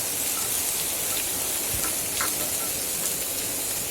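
Chopped onions and green chillies fry in hot oil, a continuous close crackling sizzle at an even level, with a few faint clicks of stirring over it.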